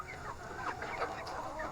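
Young Silkie chickens cluck softly in a mixed flock of partridge, white, black and buff birds, a faint continuous murmur of close clucking over low background noise.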